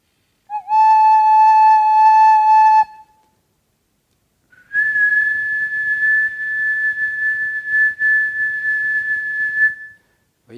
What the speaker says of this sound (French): si je siffle un son le plus pur possible